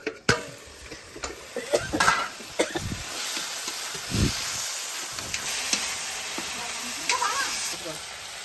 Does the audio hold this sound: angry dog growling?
no